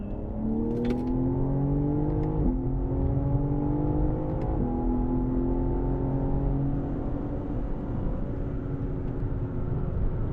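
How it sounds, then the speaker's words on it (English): A BMW M car accelerates at full throttle on the Sonoma Raceway track. The engine note climbs steadily and loudly, with two sharp gear shifts around the midpoint and engine and wind roar throughout. "Here we go. Full throttle."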